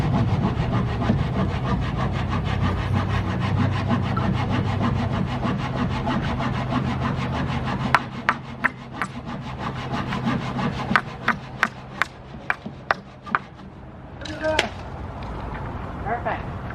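A saw cutting through roof lumber during re-roofing of a 1925 house, steady rasping strokes for several seconds, then sharp knocks and taps near the end, close and clear.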